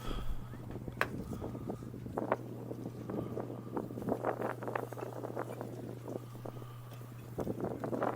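Cold wind gusts steadily across an outdoor car boot sale at Hickstead, a rough broadband rush with a low hum beneath and a few faint scattered knocks.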